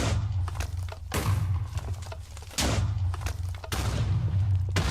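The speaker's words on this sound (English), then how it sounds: "when it comes to the explosion noises, we will get a random explosion sound here" A string of explosion sound effects fires off in quick succession, heavy booms and thuds landing one after another, loud and alone with no talk.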